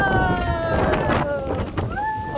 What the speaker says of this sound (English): you can hear the gust